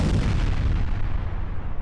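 A deep, rumbling explosion from a Hurt Locker film scene, a dense low-heavy boom with a roaring tail that stays loud and sustained for about two seconds before slowly thinning out.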